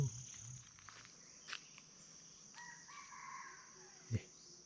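A jungle fowl crows in a forest, its call rising out of a constant whine of insects and crickets, fairly faint and distant, followed by a short thump nearby.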